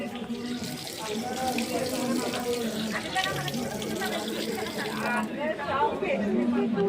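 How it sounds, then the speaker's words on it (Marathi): Water splashes and runs steadily, as from a tap, while feet are rinsed before entering a Shani temple, with people chattering nearby throughout. "चला तर मंदिरात जाण्यापूर्वी थोडंसं पाणी आपण पायावर मारूया."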